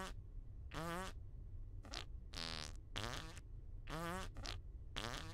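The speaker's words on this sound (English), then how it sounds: "For the love of God, will you people stop farting?" Fart sound effects from players in a multiplayer video game fire off in about eight short, buzzy blasts at an irregular, quick pace. They are loud and clear, with no talking.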